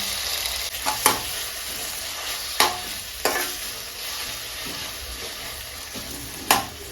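Dosa batter fries and sizzles on a pan in a small home kitchen, a steady hiss broken by a few sharp scraping stirs, close and alone with no talk.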